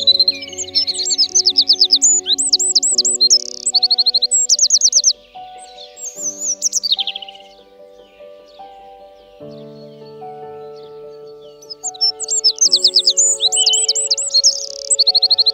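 A white leucistic blackbird in Plérin, Côtes d'Armor, gives bright, clear phrases of song in bursts, loud and close, over soft sustained background music.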